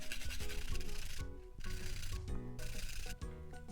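A garlic clove being grated on a kitchen grater, giving quick close rasping strokes in short bursts with brief pauses between them.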